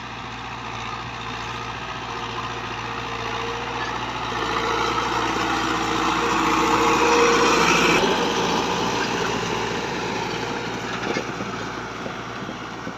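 A New Holland 640 tractor pulling a disc harrow through wheat stubble gives a steady engine drone throughout, swelling louder in the middle and easing off again, with no voices over it.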